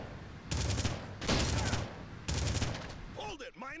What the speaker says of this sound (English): Quick burst from this gun seems to sort people out